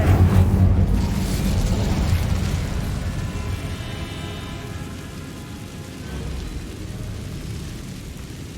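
A fire spell cast in Hogwarts Legacy erupts as a loud, roaring whoosh that settles into a steady crackling rumble of flames.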